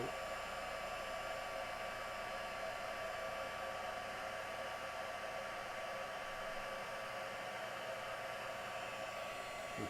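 A heat gun blows hot air in a steady, unbroken roar that holds evenly throughout, close and alone with no talk over it.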